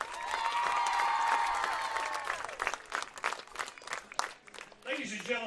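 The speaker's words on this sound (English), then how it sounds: "please give another round of applause" Crowd applause at a college football game honoring a national championship cheer team, steady clapping that fades and thins toward the end, with a voice speaking over it.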